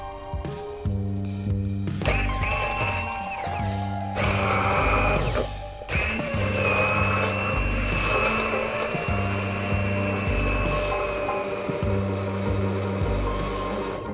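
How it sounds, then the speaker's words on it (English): An immersion blender whirs through a mint and pea soup, its motor droning steadily with pitch shifts and short pauses as it is switched and moved, loud and close, with no talking. "we want to take our immersion blender and we want to blend it"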